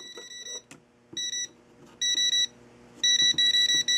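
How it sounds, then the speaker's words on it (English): A Milwaukee CAT IV 1000 voltage detector touched to a live wire gives loud, close electronic beeps in short bursts, speeding into a quick rapid chirping run near the end. "It's the CAT 4 1000 voltage detector by Milwaukee."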